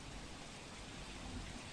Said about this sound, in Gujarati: વહેલી સવારથી સુરતમાં અવિરત વરસાદ વરસી રહ્યો છે